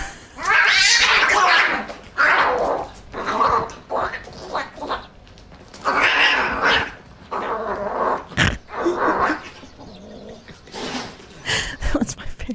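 A woman imitates a cat with a string of drawn-out meows and yowling caterwauls, loud and close, arriving in repeated bursts separated by short pauses.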